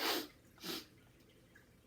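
A single sneeze performed by a man reading The Lorax aloud, a sharp breathy burst followed by a second, weaker sneezy exhale, close and alone in a quiet room.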